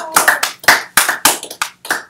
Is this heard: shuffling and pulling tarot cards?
no